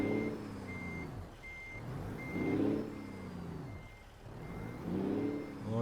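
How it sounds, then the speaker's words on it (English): A heavy truck in American Truck Simulator backs up to a side dump trailer, its diesel engine rumbling and swelling in waves while a reversing alarm beeps steadily at a regular pace over it. "Hear that engine roar as we back up."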